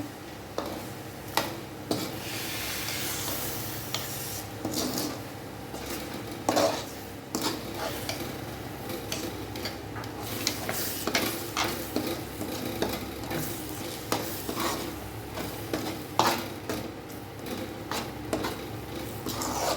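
A spoon scrapes and clinks steadily around a pan as masala egg noodles are stirred, with a faint sizzle underneath and irregular metallic taps throughout.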